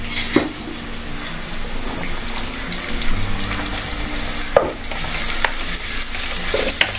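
Onions sautéing in a pan with salt, a steady sizzle and fry under a few sharp stirring scrapes and utensil knocks, close and continuous with no talking.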